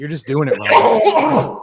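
A sneeze bursts out amid a live comedy sketch, quickly followed by someone talking loudly over it.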